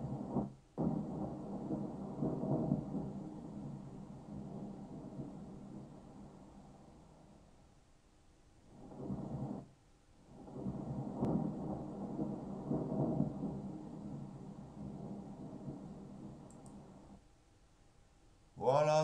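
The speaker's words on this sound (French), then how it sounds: "Voici le résultat de ce que ça donne la pluie." Synthetic rain and thunder effect built in Sony Vegas Pro 13, a steady broadband hiss with rumbling swells that fade into a quiet gap near the middle before the downpour returns, ending abruptly.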